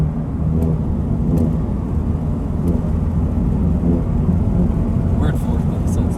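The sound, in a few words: supercharged Honda Civic engine accelerating in fourth gear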